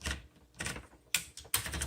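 Paper being rolled into a 1960s Smith Corona Electra 120 electric typewriter by turning the platen handle, a few quick ratcheting clicks close up, with no talking.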